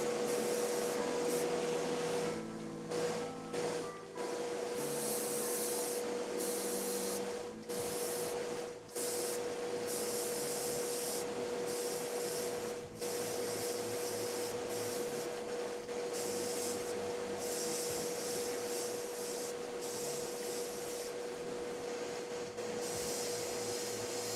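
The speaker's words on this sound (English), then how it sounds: "It really doesn't take much with an airbrush to get a decent coating of paint going." Airbrush spraying paint onto a Wolfenstein soldier miniature, a steady close hiss of air running almost without break for the whole stretch, with a few brief dips where the trigger eases off.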